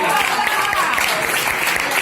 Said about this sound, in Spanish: Un fuerte aplauso para Belén.